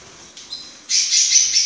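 A Timbrado canary sings a short burst of bright, high chirps and trills, faint at first and then loud and close for the last second.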